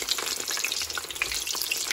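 Aubergine fries in hot red palm oil for a Sierra Leonean boil soup, a dense close crackling sizzle with scattered sharp pops throughout.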